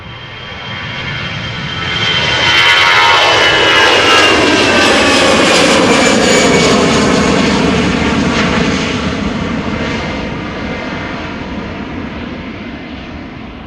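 A jet airliner departs from the Polderbaan runway at Amsterdam Schiphol, its engine roar swelling over a couple of seconds, holding loud and broad, then slowly fading as the aircraft climbs away into the distance.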